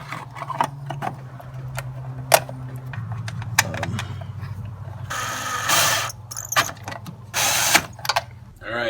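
Ratchet wrench snugging a lock nut on an accelerator (throttle) pedal position sensor adjuster, with irregular clicking and mechanical rattles, a few sharper clicks standing out over a low steady hum.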